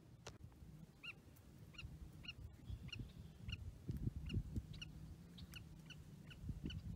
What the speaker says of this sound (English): So that bird out there making noise is actually called a will-it